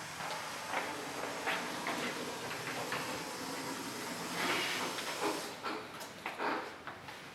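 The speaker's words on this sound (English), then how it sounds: "now we can see our little train going back and forth" A small model train runs back and forth on a layout, giving a steady soft rolling hiss and rumble with faint clicks, continuous and moderately quiet.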